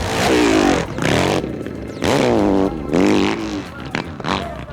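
Motorcycles rev hard at a hill climb event, loud rasping engines rising and falling in pitch through repeated throttle blips, close and outdoors with crowd noise around.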